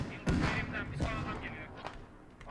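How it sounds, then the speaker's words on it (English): Anti-tank rocket explosions and gunfire in the video game Squad, a few sharp booming thuds and cracks at moderate distance, with voices talking over them. "Lat explosions coming out right now as the vehicle drives further south."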